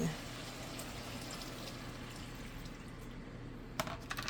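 Water runs steadily into a pan of pancit canton for several seconds, a soft continuous pouring wash with faint background voices and a couple of small clinks near the end.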